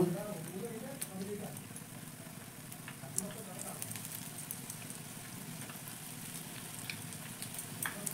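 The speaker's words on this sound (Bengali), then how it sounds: "তারপর এক পিঠ যখন ভাজা একটু হয়ে যাবে আমি একে একে এগুলোকে উল্টে দেব" Amriti sweets fry in hot oil with a soft, continuous sizzle and scattered faint crackles and pops, quiet and steady throughout.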